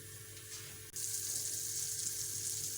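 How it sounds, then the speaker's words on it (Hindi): Dry fruits and nuts frying in a pan with a tablespoon of butter, a faint, steady sizzle that rises slightly partway through and then continues evenly. "मेवे फ्राई कर लेंगे।"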